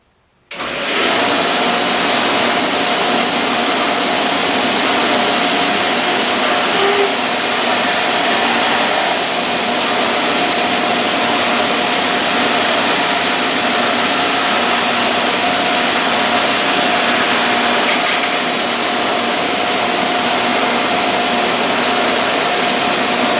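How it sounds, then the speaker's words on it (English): Shopsmith bandsaw cuts a well-used Missouri Meerschaum corn cob pipe in half, a loud steady whine and motor hum that starts abruptly and runs without a break. "we're going to cut this pipe in half on my bandsaw"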